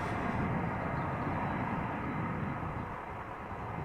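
A Boeing 747 jet airliner departing from the Polderbaan runway at Amsterdam Schiphol gives off a steady, loud, broadband engine roar that holds at an even level throughout, with no voices.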